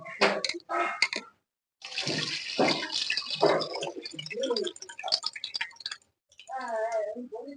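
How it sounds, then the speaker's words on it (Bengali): Bhangor fish, taken from the fridge, is rinsed and scrubbed clean in water in a home kitchen, giving irregular close splashing and swishing bursts with short pauses, plus a brief voice near the end. "ভালো করে এটাকে ধুয়ে নিই পরিষ্কার করে।"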